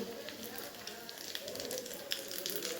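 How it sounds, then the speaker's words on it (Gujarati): Mustard seeds, asafoetida, pickle masala and curry leaves hit hot oil with the flame off, giving a soft continuous sizzle with faint scattered pops and crackles close by for a few seconds. "એમાં આપણે નાખીશું રાઈ, ગેસની ફ્લેમ બંધ કરી દઈએ, હિંગ, આચાર મસાલો અને લીમડો"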